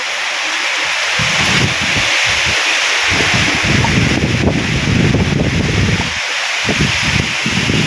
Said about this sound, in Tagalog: bigla-bigla po ang hangin dito.